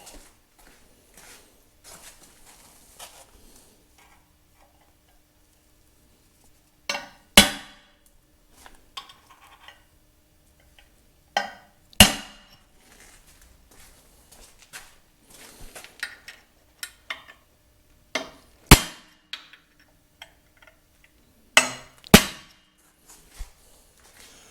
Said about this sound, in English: Now technically I probably wouldn't have had to use the center punch.